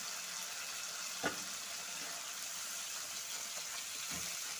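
Egg omelette curry masala fries in a pan while being stirred: a faint, steady sizzling hiss with one soft knock of the utensil, quiet and without voices.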